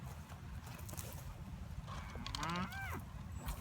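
A single cow moos, a low drawn-out call rising and falling, over outdoor background noise and faint rustling.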